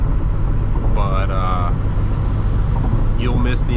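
A C4 Corvette cruising on a highway, with a steady low engine and road drone filling the cabin throughout while voices are heard over it.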